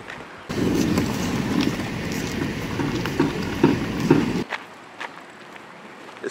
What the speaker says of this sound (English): And I'm walking in gravel.